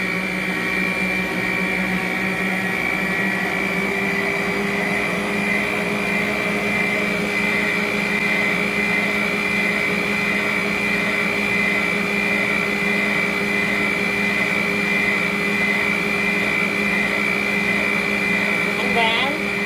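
An electric mixer whirring at high speed through chocolate pound cake batter, a loud, steady motor whine with no break for the whole stretch.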